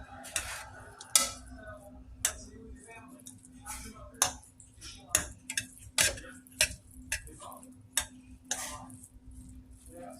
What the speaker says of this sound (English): I'm going to go ahead and fluff it with a fork